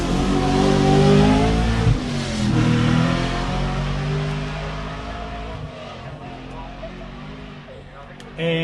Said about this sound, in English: Of course, the Mitsubishi Starion V8, it's one of those cars that were built just for events like this.